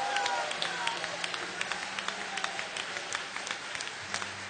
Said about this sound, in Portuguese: Aplauda Jesus, porque ele é digno.